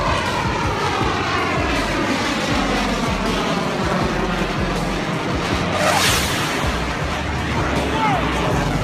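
Aircraft engines roar loudly and continuously overhead as planes pass close by, a dense droning rumble filling the whole stretch with a brief swell near the end.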